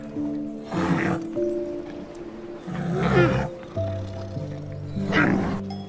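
Bear roaring in three rough, throaty bursts with pauses between, each loud and close, over a steady background music bed.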